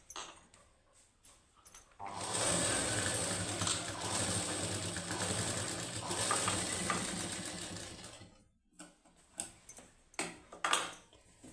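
A sewing machine stitching the high neck of a plain blouse: a steady whirring run of needle strokes lasting several seconds, framed by soft clicks and handling noises before and after, with no talking.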